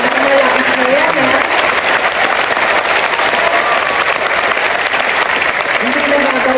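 Sustained loud applause from a large audience at a teachers' oath-taking ceremony at PICC, steady dense clapping filling the hall throughout, with a voice faintly audible underneath at moments.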